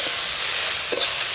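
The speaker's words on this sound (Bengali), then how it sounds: "এইগুলো কিন্তু চাপা দিয়ে দিয়ে ভাজবে, তাহলে তাড়াতাড়ি ভাজা হয়ে যাবে" Mixed vegetables frying in a pan and pressed down while being stirred, a loud, steady sizzle with a brief scrape near the end, no voices.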